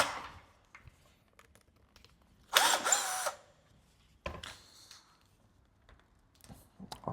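Budget cordless drill-driver running with the bit slipping in the chuck, one loud burst of whirring near the middle, then a shorter weaker run and faint clicks and handling noises around it.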